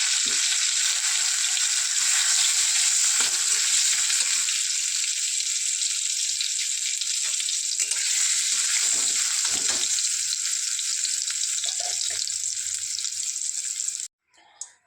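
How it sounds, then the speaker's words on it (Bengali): Cut potatoes coated in salt and turmeric fry in hot mustard oil, a steady, bright sizzle running loud and unbroken for most of the stretch before cutting off abruptly near the end, followed by a brief clink. "পটলের সাথে যে আলুগুলো কেটে রেখেছিলাম সেই আলুগুলো আমি ভেজে নেব।"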